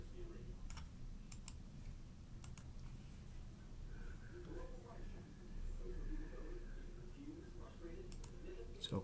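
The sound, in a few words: computer keyboard and mouse clicking while cutting and pasting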